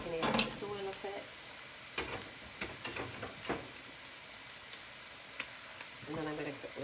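Halloumi frying in a pan gives a soft, steady sizzle with occasional utensil taps and stirring scrapes, fairly quiet and close, with brief bits of talk.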